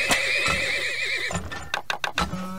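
Horses neigh in the Turmoil video game, one long wavering whinny followed by several short snorting bursts and nickers, loud and close, with no talk over them.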